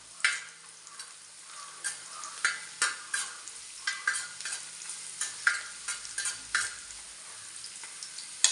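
Garlic and carrot frying in a pan over high flame, a steady bright sizzle broken by a regular run of spatula scrapes and stirs, close up with no talk.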